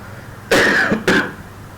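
A person with a cold gives two short, loud, close coughs with throat clearing, with brief quiet before, between and after.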